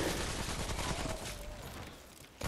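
A burst of rapid gunfire crackles in a quick volley, somewhat muffled and fading slightly, gunfire in the video game Remnant: From the Ashes.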